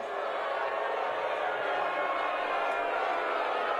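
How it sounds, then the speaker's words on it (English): Large crowd at a political party convention booing a speaker, a dense, sustained roar of jeering voices filling the whole stretch at steady loudness. "He's getting booed hard."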